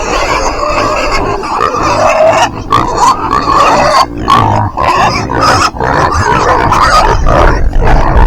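Farm pigs grunt and squeal loudly at feeding time, a close, continuous chorus of harsh squeals and grunts that carries on for several seconds with no voices.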